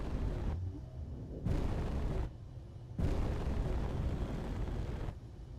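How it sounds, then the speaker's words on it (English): Turret fire in Space Engineers comes as three loud, broad blasts of sustained roaring bursts, each lasting about a second or more, separated by short quieter gaps, with no talking. "Turret shooting itself?"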